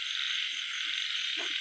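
A frog croaks at night in the open while a steady, loud chorus of insects hums throughout; one short, low croak cuts through near the end.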